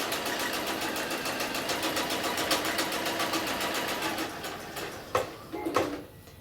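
A sewing machine chain-stitches fabric pieces for a pincushion in a rapid, even mechanical rattle close by, running steadily before slowing and stopping with a couple of short bursts near the end.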